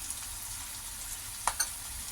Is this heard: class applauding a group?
no